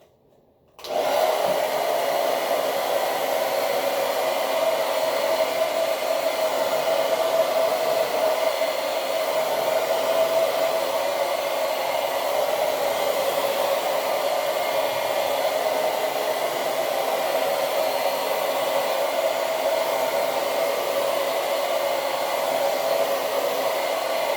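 A hair dryer on medium heat blows steadily while hair is dried without combs or brushes, a loud continuous whir that starts after a brief silence and holds unchanged to the end.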